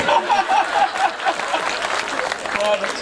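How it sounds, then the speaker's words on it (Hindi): Audience members at a 2014 Hindi poetry recital in Khariar Road clap together, a dense patter of hands mixed with chatter, scattered chuckles and a few whistles. "ताली बजाओ"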